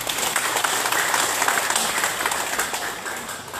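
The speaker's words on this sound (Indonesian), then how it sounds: "Tepuk tangan Pak Dhani." Audience applause at a village head election peace declaration gathering, a loud, dense crowd of clapping hands going on without pause, easing slightly toward the end.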